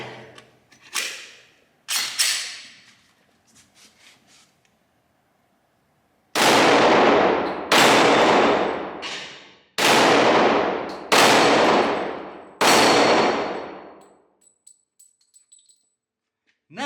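A Glock pistol fires at a target outdoors: a couple of fainter early reports, then five loud, sharp gunshots spaced roughly a second and a half apart, each ringing briefly before the next.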